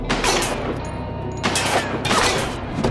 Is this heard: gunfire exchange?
yes